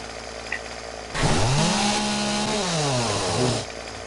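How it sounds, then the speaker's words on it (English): A chainsaw in the video game Fortnite roars to life and revs steadily for a couple of seconds, loud and close, then cuts off abruptly. "I got a chainsaw."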